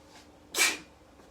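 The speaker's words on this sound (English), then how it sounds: "Ooh, and I can't stop sneezing." A single sharp sneeze bursts out mid-moment in a home kitchen where wings are being seasoned and cooked, loud and close, with quiet room noise and faint breaths before and after.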